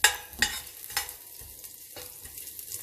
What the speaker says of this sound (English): Okay, now you saute it in low flame. Now you add the ginger